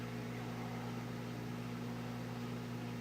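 A microwave oven runs with a steady low electrical hum and whirring noise, continuous and even throughout at moderate loudness, with no talking.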